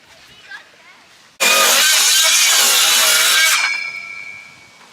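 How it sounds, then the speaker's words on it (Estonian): Machinery at a local sawmill starts abruptly, roars loud for about two seconds, then winds down through a fading whine. "Siin on kohalik saekaater."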